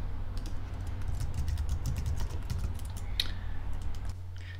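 Steady fast typing on a computer keyboard as a credit card number is entered, with close, crisp key clicks in an uneven rhythm over a low background hum, with no talking.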